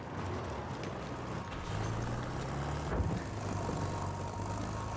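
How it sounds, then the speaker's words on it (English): A vehicle engine in the Battlefield 1 beta gives a low, steady rumbling drone amid a busy wash of game noise, with no talking. "Sounds like a car."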